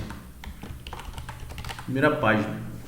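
Quick, light clicks of typing on a computer keyboard, close and fairly soft, with someone speaking Portuguese over the tapping near the end.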